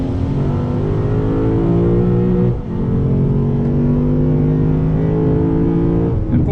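A 2020 Lexus RC F's 5-liter V8 accelerates hard on the Gingerman Raceway track in South Haven, Michigan, a loud sustained engine roar with one brief gear-shift dip midway, no talking.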